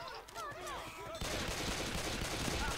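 Left 4 Dead 2 gameplay with dense, continuous automatic gunfire that erupts after a second of chirpy game sounds and keeps going at full loudness.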